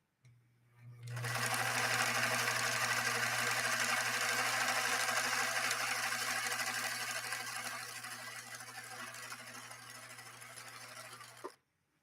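A Viking 21E sewing machine with a 1.5 amp motor runs steadily for about ten seconds, sewing a 3-point zigzag stitch pattern. The motor whirs loud and close under a constant low hum, then stops abruptly.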